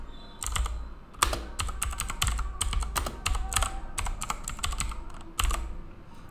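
Keys clatter on a computer keyboard as Python code is typed, with bursts of quick close-up keystrokes separated by short pauses, and no voices.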